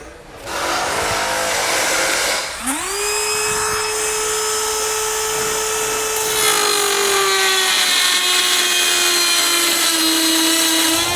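A high-pitched rotary cutting tool whines steadily as it trims plastic grille louvers on a 2019 Buick Envision, close and loud, its pitch dropping and settling under load during a continuous cut.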